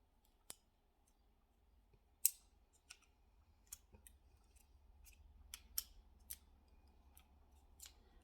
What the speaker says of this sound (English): Gotta put my scissors back together.